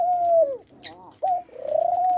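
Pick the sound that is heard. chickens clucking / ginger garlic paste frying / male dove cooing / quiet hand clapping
male dove cooing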